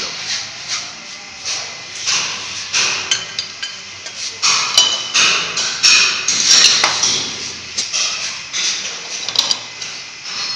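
Repeated metal-on-metal hammer blows knocking loose the lock on a Royal Enfield motorcycle sprocket nut, a fast, irregular series of sharp ringing strikes close by, filling the whole stretch with clattering workshop noise.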